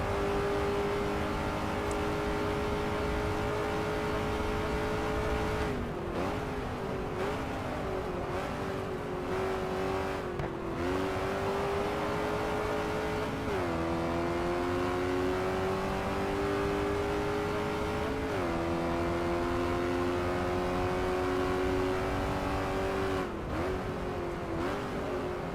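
A 1960s Ford Mustang racing around Silverstone in GT Legends, its engine droning loud and steady throughout, pitch climbing through each gear and dropping sharply at every shift, no voices over it.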